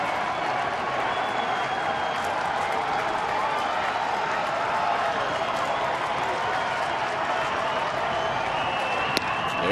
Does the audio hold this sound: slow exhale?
no